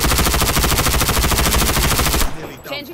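Rapid, loud automatic gunfire from a video game battle rattles continuously for about two seconds and then cuts off abruptly, leaving faint background game sounds.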